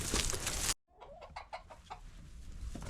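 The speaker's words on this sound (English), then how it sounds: "time to feed the chickens" Backyard chickens cluck at feeding time, a series of short, close clucks after a brief loud burst of noise that cuts to silence.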